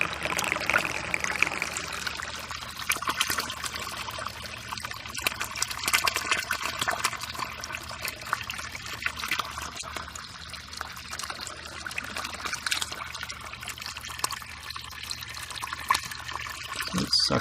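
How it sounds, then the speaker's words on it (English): A PVC U-siphon in an aquaponics grow bed drains into a stock tank with a steady rushing, gurgling flow of water, loud and continuous, sucking in air toward the end with no talking. "So it's sucking in air at the top, or inside the bed. And the siphon quits."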